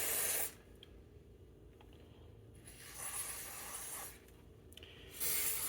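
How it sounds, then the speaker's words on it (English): Silicone lubricant sprays in short hissing bursts on a Triumph T140V motorcycle during an ignition installation, with three quiet spray pulses separated by pauses. "I've got some silicone lubricant, so we're going to try that instead of WD."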